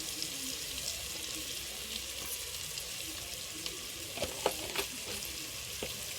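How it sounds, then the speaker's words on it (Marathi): Masala frying in a pan for chicken biryani, a steady close sizzle with small crackling pops and a few sharper stirring clinks near the end. "मसाला पण मस्तपैकी भाजून झालेला आहे पूर्णपणे सगळा"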